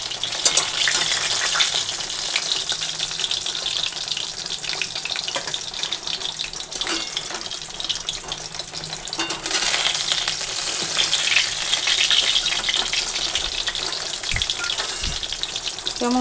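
Fish frying in a pan in a home kitchen gives a steady, broadband sizzle for the whole stretch. Water runs from a tap and there is light stirring, with no voices.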